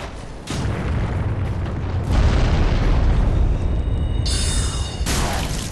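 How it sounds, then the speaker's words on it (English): Enemies explode in the video game Dark Souls 3, producing heavy, roaring booms that swell into a sustained rumbling blast lasting several seconds, loud and close with no talking. "These things actually explode as well."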